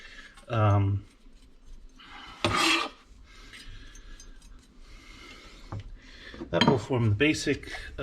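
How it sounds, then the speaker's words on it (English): A spoon scrapes and clinks in a bowl while ramps are stirred into yogurt with mayonnaise and mustard, brief rubbing bursts between stretches of nearby talking. "I'm going to stir in the ramps."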